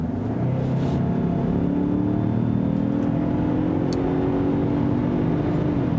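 2021 Lincoln Corsair 2.3-liter EcoBoost luxury SUV with an 8-speed automatic, accelerating hard in normal mode, a loud, steady engine drone heard from inside, rising in pitch through the gears for the whole stretch.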